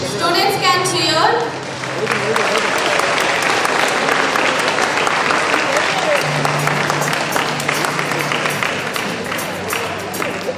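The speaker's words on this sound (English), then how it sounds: "Students can cheer." Students at a school stress-management program event applaud in a sustained, dense burst lasting most of the moment, with a voice heard briefly at the start before the clapping swells and holds steady.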